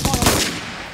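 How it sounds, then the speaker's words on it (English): Rapid bursts of enemy gunfire during a Royal Marines firefight in Afghanistan, a fast stuttering rattle of shots over a second that fades slightly toward the end. "They're sending up excessive fire now, very rapid rate of fire indeed."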